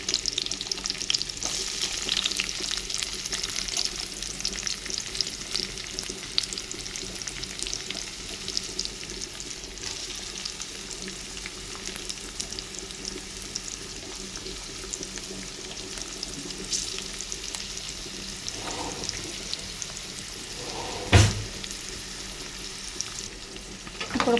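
Onions fry in a pan for a bitter gourd dish with a steady close sizzle, joined by occasional stirring and a brief watery splash near the end.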